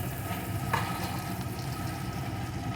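Chopped medium-sized potato frying in a pan with ginger-garlic paste, giving a steady, soft sizzle close by with one brief louder crackle, alone without any talk.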